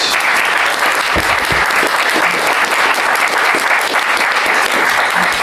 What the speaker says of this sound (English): Great, give him a round of applause.